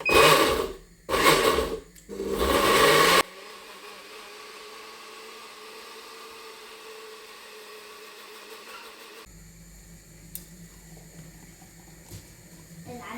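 A kitchen blender grinds loudly in several short bursts at the start, then the motor cuts off, leaving quiet background hiss and faint movement.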